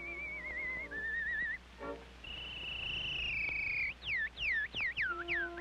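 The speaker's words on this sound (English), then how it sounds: "the whistling artist." Old phonograph recording of a whistling artist performing a tune: a clear trilling melody with warbles, sustained notes and a run of quick swooping phrases over a faint, steady crackling hiss.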